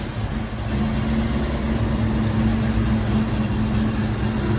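A 1969 Yenko Camaro with a 427 V8, headers and a Flowmaster 40 Series exhaust idles close by, a steady, loud, deep rumble with a low throb throughout and no talking.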